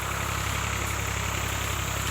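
A steady, droning LS tractor engine idles close by, a constant low rumble with a rough vibrating texture and no pauses.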